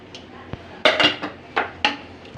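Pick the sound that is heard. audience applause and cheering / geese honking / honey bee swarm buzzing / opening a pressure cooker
opening a pressure cooker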